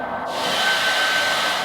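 A hair dryer blows steadily at close range, a loud continuous whoosh with a faint whine, heard alone without talk.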